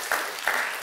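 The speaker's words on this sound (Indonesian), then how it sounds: "Berikan tepuk tangan untuk Tuhan kita." A church congregation applauding during a Sunday service, a short loud burst of many hands clapping that swells briefly, then surges again at the end.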